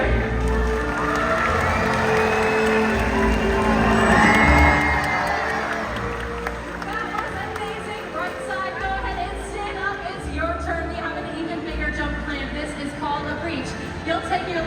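An audience at a SeaWorld killer whale show cheers and whoops, with children shouting, the roar swelling near the start and then easing into sustained crowd noise mixed with talking and a loudspeaker voice.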